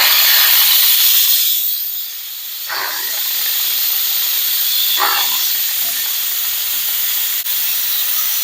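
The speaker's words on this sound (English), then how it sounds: "I'm going to release my steam. I'm going to put it on vent." An electric pressure cooker set to vent releases steam in a loud, continuous broadband hiss that carries on steadily for several seconds, dipping briefly before surging again, with faint clicks in the background.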